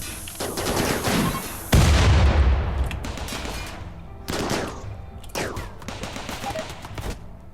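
Turrets and guns blast away at tribesmen in the Rimworld Alpha 9 game, loud rattling volleys with a heavy burst near two seconds, then scattered shots trailing off.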